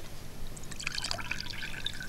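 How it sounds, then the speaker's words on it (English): Water tipped out of a musical glass, a light splashing trickle with a few bright drips, fairly faint and close. "If I tip the water out,"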